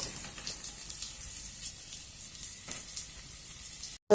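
Chopped ginger and garlic dropped into hot oil already frying cumin for palak rice, giving a steady bright sizzle with small crackling pops, close and constant, cut off abruptly at the end.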